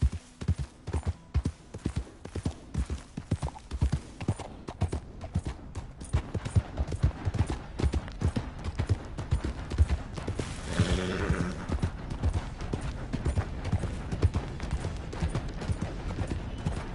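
Steady clip-clop of hooves trots along throughout, with a horse's whinny rising briefly near the middle.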